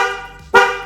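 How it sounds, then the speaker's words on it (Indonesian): Horn of a Honda CB 100 motorcycle, one loud close honk with a buzzy harmonic tone, following a fading earlier tone. "Kita coba untuk suara klakson."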